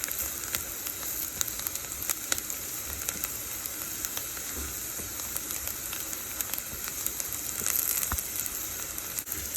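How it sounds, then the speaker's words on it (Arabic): Onions frying in a pan, browning before turmeric and curry powder go in, give a steady, moderately quiet sizzle with occasional crackles and no talking. "هسه البصل حمر"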